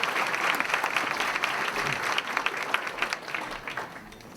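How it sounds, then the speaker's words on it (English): An audience at a city's State of the City gathering gives a round of applause for the event sponsors, with loud, dense clapping that runs steadily and then starts to fade toward the end. "Can we get a round of applause for all of our sponsors today?"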